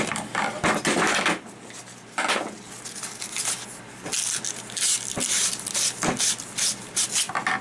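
PVC pipe pieces for a pack frame are sawn by hand in steady back-and-forth strokes, giving a loud, gritty rasping in repeated bursts with brief pauses between them.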